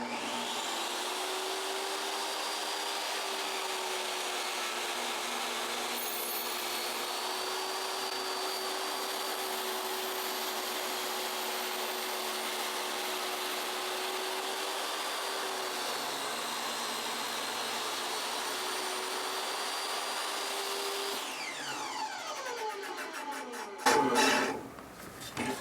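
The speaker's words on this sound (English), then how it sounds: "So I'll turn the saw on and then I'll plunge my piece into it." A table saw runs steadily at close range for over twenty seconds while a wood piece is plunged into the blade to cut a notch, a constant loud whine that shifts and roughens near the end as the cut finishes.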